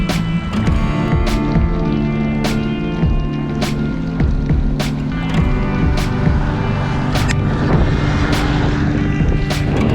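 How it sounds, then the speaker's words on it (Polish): A car drives along a road in rainy weather in the Polish countryside, a steady close engine and tyre rumble with repeated sharp clicks and rattles over it. "Samochód jedzie."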